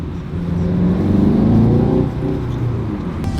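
A 2-litre Audi A1 accelerates from inside the car, a steady engine drone climbing in pitch, easing off, then building again over road rumble.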